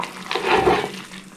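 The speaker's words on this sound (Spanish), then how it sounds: "retirar del fuego y escurrir el agua restante" Leftover cooking water poured off from a pot into a sink, a brief gushing splash that swells and fades over about a second, close and fairly loud with no talking.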